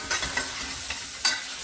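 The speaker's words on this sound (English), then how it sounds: "Oh yeah, this is sizzling." Sliced sausage sizzles and crackles in a frying pan, a steady quiet hiss with a few brief stirring scrapes and pops standing out, close and alone without talk.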